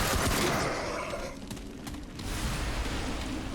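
Sustained rapid gunfire from a weapon in the video game Remnant from the Ashes, a dense continuous burst that dips briefly in the middle before resuming at full intensity, loud and close with no talk.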